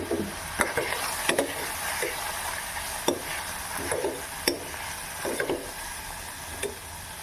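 Turmeric, coriander and chili powder are stirred into a ridge gourd curry in a pan. A spoon scrapes and knocks in an uneven rhythm over a faint, steady sizzle, all quiet and close.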